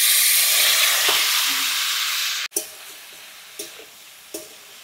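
Boiled banana flower and potatoes added to a pan of hot oil with cumin, bay leaf, garam masala and asafoetida, giving a loud hissing sizzle that cuts off abruptly, followed by a few spaced taps of stirring.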